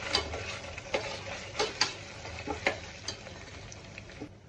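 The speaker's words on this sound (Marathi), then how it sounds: "कांदे आपले अर्धे झाले आहेत, तेव्हा मी थोडीशी जिंजर गार्लिक पेस्ट टाकून घेतली आहे" Half-cooked onions with ginger garlic paste frying in a pan for tomato rice, a steady soft sizzle broken by frequent spoon scrapes and taps, close but fairly quiet with no voices.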